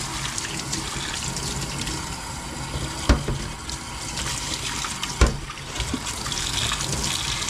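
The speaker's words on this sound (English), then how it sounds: "I'm just using the faucet to rinse the hose of the wax out" Water runs steadily from a faucet, splashing and trickling as beeswax is rinsed out of a hose, with two brief clunks of objects knocking in the sink.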